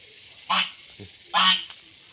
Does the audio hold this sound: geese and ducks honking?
yes